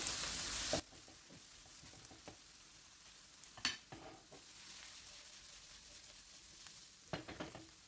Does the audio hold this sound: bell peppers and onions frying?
yes